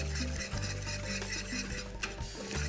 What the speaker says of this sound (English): you can see with that whisk, I'm able to kind of chop the chipotles up